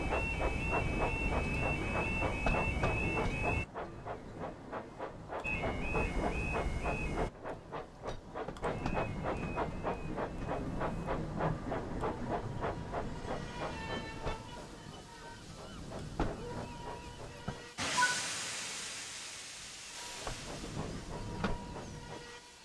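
A steam tank engine shunting in the Train Sim World 5 video game, with steady rolling rail clatter, hissing steam and a few brief whistle-like tones, cut by short gaps and a louder burst of hiss near the end.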